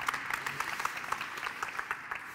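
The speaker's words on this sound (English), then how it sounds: "I think we should do an applause." An audience at a conference presentation claps steadily, a dense patter of many hands applauding throughout the short stretch.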